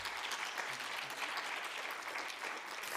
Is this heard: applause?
yes